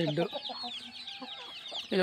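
Chickens in a shed cluck and squawk close by in a busy, overlapping chorus, with sharp high calls scattered throughout.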